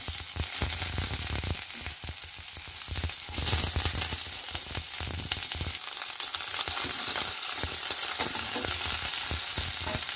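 Garlic and onion sautéing in a hot pan, a steady dense sizzle with occasional stirring scrapes, loud and close throughout with no talking.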